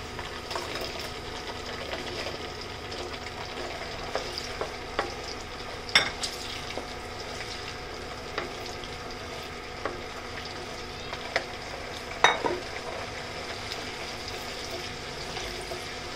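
Darjeeling peppers from a rooftop garden fry in a pan for pickle, a soft continuous sizzle with stirring scrapes and a couple of sharper spoon knocks against the pan.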